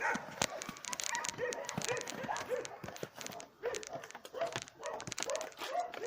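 Several dogs at a snowy shelter in Montenegro bark, yip and whimper in quick, overlapping bursts, fairly close but quiet, with a voice faintly mixed in.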